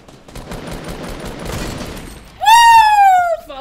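A scoped rifle shot in Fortnite cracks loudly after a couple of seconds of softer gameplay noise, its bright ringing tail fading quickly, followed by another short sharp sound at the end.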